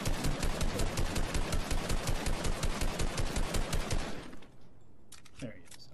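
Sustained automatic gunfire in Fortnite aimed at Wolverine, loud, rapid bursts for about four seconds before cutting off, followed by faint scattered game sounds.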